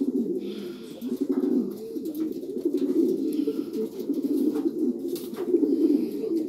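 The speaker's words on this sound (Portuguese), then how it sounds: "um dos pombos de elite da minha colónia de reprodução" Elite breeding pigeons in a loft colony coo continuously with low, throaty, rolling calls that overlap one another, close and fairly loud, with faint rustling behind and no speech.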